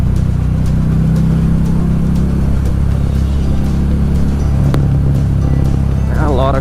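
Cars pass in heavy afternoon traffic on a Georgia road during a fall motorcycle ride. The engine roar is continuous and broad, and a rumbling drone and wind noise stay steady throughout.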